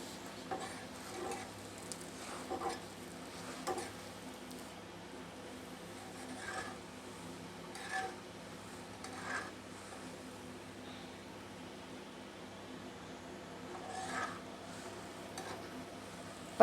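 A paratha cooking lightly in a pan before an egg filling is added, giving a steady low sizzle with occasional soft scraping touches, close and fairly quiet, no talking.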